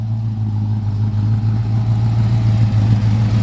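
A 1955 Chevrolet 210 post with polished Borla mufflers and dual tips sends out a steady, moderately loud low exhaust rumble that swells slightly as it revs, with no talk over it.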